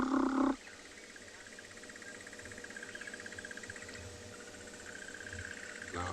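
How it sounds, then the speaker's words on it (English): Crested barbets give agitated alarm calls on an afternoon safari in the South African bush. The calls come as a steady, rapid trilling at moderate distance over faint insect and wildlife ambience. "You can hear the barbets making that."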